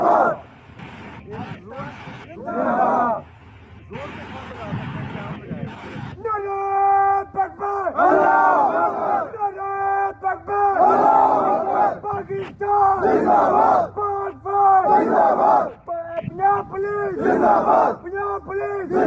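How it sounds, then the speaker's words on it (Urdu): Crowd at the Bahawalnagar incident involving Punjab Police and the Pakistan Army loudly chanting 'Pak Army zindabad, Punjab Police zindabad', rhythmic massed call-and-response voices rising and falling in repeated bursts, with an individual voice leading between chants. "نعرے بھی لگائے جا رہے ہوتے ہیں کہ پاک فوج زندہ باد پنجاب پولیس زندہ باد"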